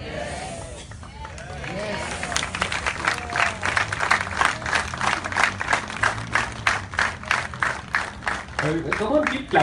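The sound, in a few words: audience clapping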